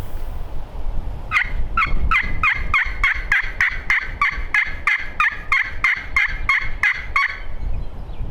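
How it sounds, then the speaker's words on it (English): A Merriam's wild turkey gobbler on South Dakota public land lets out a long, loud run of rapid, evenly spaced gobbling notes, about twenty sharp pulses in steady rhythm, close by and heard alone without talk. "There's a gobbler right over there."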